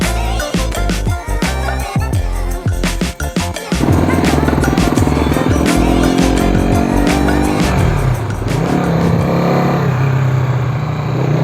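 A Honda CB Twin motorcycle engine runs loud and close, first pulsing in choppy bursts of revs, then settling into a continuous droning roar as the bike rides along, its pitch shifting with speed.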